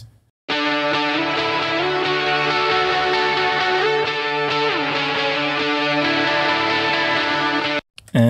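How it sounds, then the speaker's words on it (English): A guitar part from a mixing session plays dense sustained chords with a slightly driven, effected tone, loud and continuous for most of the stretch before cutting off near the end. "So this is the first guitar."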